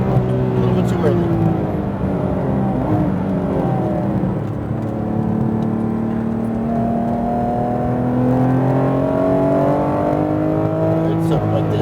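A Porsche GT3 RS at Speedvegas during a track day, its engine droning loud and steady from inside the car as the throttle rises and falls, with pitch sweeping up and down and people talking over it.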